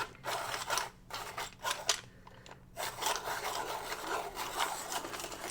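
A colouring pencil being sharpened, giving soft, repeated scraping and grinding strokes in short bursts with brief pauses between, close and fairly quiet.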